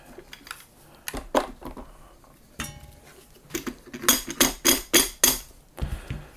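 A mallet taps a tight barrel band off a rifle's fore end in irregular sharp metallic knocks: scattered single hits first, then a quick run of louder strikes, close and alone.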